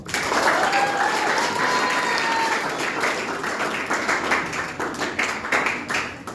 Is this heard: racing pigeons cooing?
no